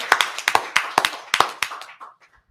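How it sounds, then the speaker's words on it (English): A small group claps their hands at a religious gathering, sharp distinct claps in a loose, uneven rhythm that trail off into a few soft final taps. "Clap it up."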